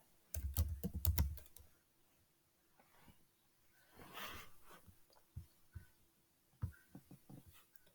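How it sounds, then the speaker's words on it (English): Fingers type text on a computer keyboard in quiet, uneven runs of clicks, with a dense flurry at first, then scattered keystrokes and short pauses, all fairly faint and close. "I just typed it in"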